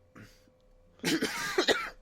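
Someone gives a slight cough: a short cluster of close, fairly loud throat bursts after a second of quiet, with no speech.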